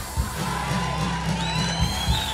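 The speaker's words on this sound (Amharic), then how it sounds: "እልልታ፣" Celebratory ululation rises from a crowd at a prophetic church gathering, high trilling cries carrying over a steady crowd roar, with brief louder whoops and bursts of cheering.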